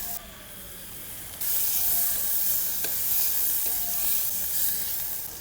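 Ground spices and a small tomato frying in a pan for a quail curry: steady sizzling hiss that grows louder partway through, with occasional scrapes and clinks of stirring.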